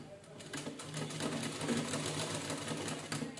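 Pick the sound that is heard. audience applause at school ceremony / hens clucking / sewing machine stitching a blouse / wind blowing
sewing machine stitching a blouse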